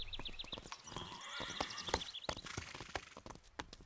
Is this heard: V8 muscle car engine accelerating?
no